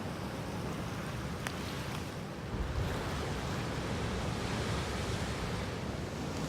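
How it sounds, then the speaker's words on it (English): Ocean waves break along a shore. Close, continuous surf roars throughout with a little wind buffeting the microphone, and no one speaks. "Look at these waves."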